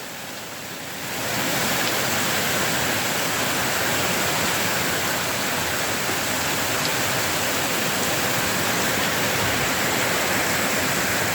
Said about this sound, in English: Now that is September. September rains.